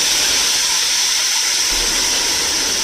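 Spice paste hitting hot oil in a wok, a steady, loud, continuous sizzling hiss that holds without a break.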